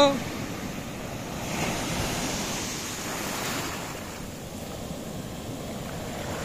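Sea waves wash steadily onto the shore at a fishing spot, a broad continuous rushing roar with gusts of wind buffeting the microphone.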